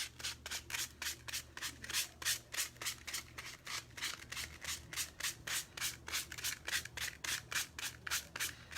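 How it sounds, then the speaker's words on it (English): Sandpaper lightly scuffs a muslin fabric pumpkin in quick, even back-and-forth strokes, roughly three per second, close up and steady with no voices. "so it's just a light scuffing and sanding"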